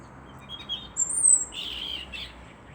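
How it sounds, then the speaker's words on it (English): A small bird chirps a few high, thin notes outdoors, short bursts separated by quiet, faint against light background noise. "Sits there quite often, especially when he sees us in the garden, chirping away."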